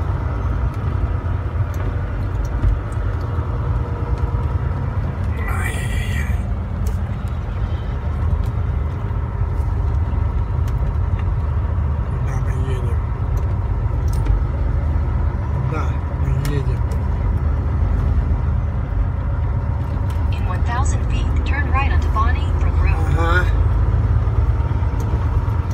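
Constant engine drone and road rumble inside a long-haul truck cab while driving on a US highway, with someone talking at times and a navigation voice giving directions near the end.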